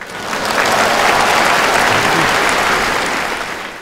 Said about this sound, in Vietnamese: Xin hãy dành những tràng pháo tay nồng nhiệt.